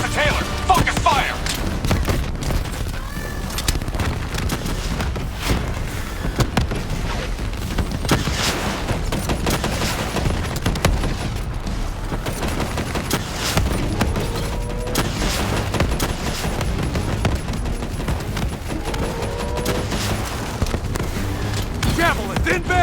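Dense, continuous gunfire and booming blasts fill a Black Ops 3 campaign battle, with rapid shots crackling over heavy rumble throughout and voices calling out between the volleys.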